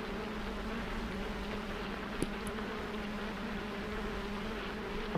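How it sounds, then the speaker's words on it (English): Faint, steady insect-like buzzing of flies in the side-scrolling video game Limbo hums on throughout, with one brief spoken word over it. "The bee noises are just. I mean, fly noises."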